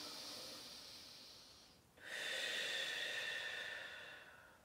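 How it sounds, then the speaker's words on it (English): During a seated chair yoga stretch, a person breathes close to the mic, first a soft exhale and then a longer, louder airy breath that slowly fades out. "Breathe here."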